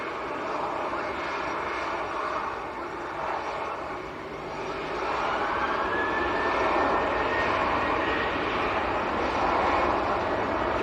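EasyJet airliner arriving from Pisa at Manchester Airport, its engines a broad, steady roar that swells slightly in the second half, with a faint rising whine and no talk.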